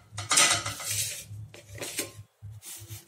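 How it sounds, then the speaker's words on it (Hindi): A spoon mixing boiled potato, almonds and chickpeas in a bowl, with repeated close clinks and scrapes of metal against the dish in uneven bursts and a brief pause near the end; no talking. "बॉयल किया हुआ आलू, बादाम और चना को पहले मिला लेंगे।"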